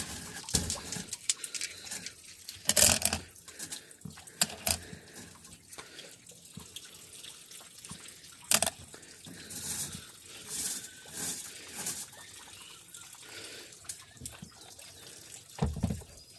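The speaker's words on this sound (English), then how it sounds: "So there we go there. That's all rinsed." Running tap water rinsing rock tumbler grit off stones and the barrel, with intermittent splashing bursts and gurgles, close and without talk, birds faintly audible in the background.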